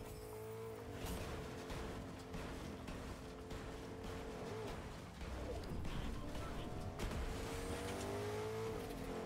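A car drives in the Fortnite video game, its engine revving and whining up and down with tire squeals, moderately loud and continuous, mixed with game sounds.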